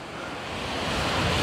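Surf rolls onto a beach in Thailand, a broad, building wash of waves with light wind, growing slightly louder over the short stretch and free of speech.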